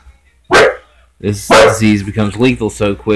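A pet dog gives one sharp, loud bark indoors, then someone talks over a quiet background.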